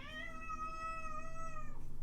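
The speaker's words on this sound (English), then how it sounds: "listen to the lungs on this cat." A cat meows loudly in one long, drawn-out, strained call lasting nearly two seconds, close and alone, with no talk over it.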